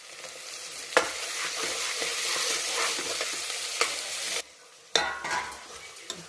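Onions frying in a pan with fenugreek, salt and ginger paste are stirred, giving a steady close sizzle with scraping strokes and a brief pause near the end.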